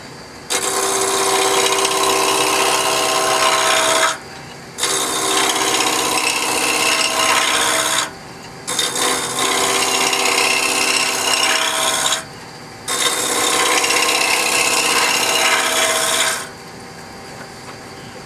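A wood lathe spins at around 700 to 800 RPM while a turning tool cuts the wood, giving four long continuous scraping passes with short pauses between them, loud and close.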